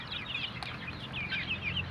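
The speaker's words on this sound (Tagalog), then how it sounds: "mga pure darag native chicken po yan" Young Darag native chickens, mostly hens about 65 days old, cluck softly and repeatedly in a brief, steady flock murmur, with a faint background hum beneath.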